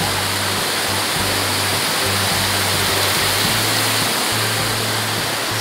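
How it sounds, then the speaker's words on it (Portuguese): Water rushing at Ribeirão do Meio in Chapada Diamantina, a loud, constant broadband roar of falling and flowing water that fills the scene without pause. "Só o barulho da água."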